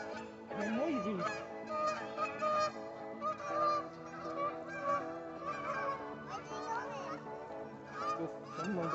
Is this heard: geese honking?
yes